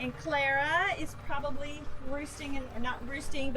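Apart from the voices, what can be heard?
No everyday noise stands out behind the speech.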